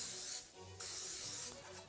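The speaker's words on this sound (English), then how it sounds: "spray them with nonstick vegetable spray" Three short bursts of nonstick vegetable cooking spray hiss nearby onto ramekins, each a quick pressurized spritz separated by brief pauses.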